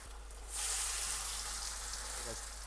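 Korean-style chicken gizzards deep fry in a batch of hot oil, giving a dense, bright, close sizzle that surges after a brief lull and holds steady to the end.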